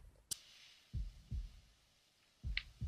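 A heartbeat sound effect throbs in two pairs of soft, low double thumps, quiet and close, with a brief sharp click between them.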